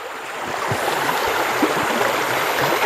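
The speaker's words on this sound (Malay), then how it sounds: "Sungai dia cantik" A river stream at a campsite flows steadily, a continuous close rushing of water with occasional low splashes and no voices.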